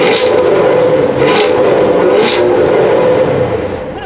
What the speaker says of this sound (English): And you have dual exhaust down there. What exactly does that sound like?